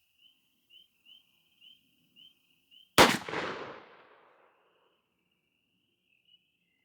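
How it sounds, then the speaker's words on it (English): Single loud shotgun blast from an NEF Pardner firing a Remington Game Load lead #6 shell outdoors, a sharp crack with a decaying tail, preceded by faint rhythmic chirping of insects or birds. "So let's walk it back up here and take our 30-yard shot and see what we get there."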